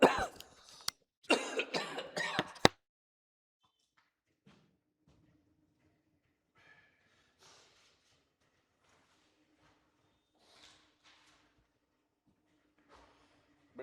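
Two sharp bursts of coughing up close from a person with a cold and fever, a single cough then a rapid cluster, followed by near silence with faint rustles.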